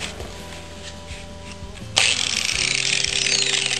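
An angle or bench grinder loaded with white grinding paste grinds steel for sword making, the motor humming briefly before a loud, harsh grinding hiss begins and continues steadily.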